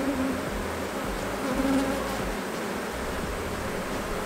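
Steady buzzing hum of many honey bees around an open hive during an inspection in Minnesota, close and continuous with no talk.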